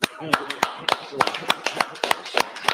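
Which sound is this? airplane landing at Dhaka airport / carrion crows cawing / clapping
clapping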